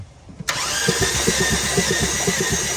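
A TATA CNG vehicle's engine cranks on the starter during a cylinder compression test, a close, loud, steady mechanical churning with a regular pulsing rhythm that kicks in abruptly after a quiet start.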